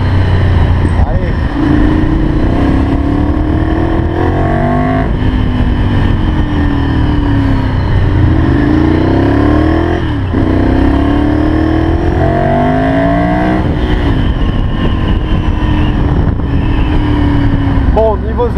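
A Ducati Monster 796 motorcycle engine revs and accelerates loudly through repeated gear changes, each rising pitch sweep dropping back before climbing again, with the rider talking over the steady roar.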